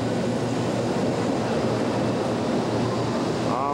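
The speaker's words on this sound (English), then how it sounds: "here it has arrived, the bullet train" A Japanese bullet train pulls into platform 5 at a station in Yokohama in 1992, giving a steady, loud rushing roar that stays even for a few seconds, with a faint tone rising at the very end.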